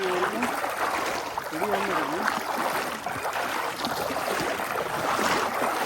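Knee-deep river water rushes and churns steadily around wading legs, a continuous loud wash that never lets up, with voices calling and talking over it.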